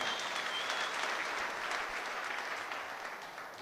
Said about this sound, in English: I think we must give them a round of applause.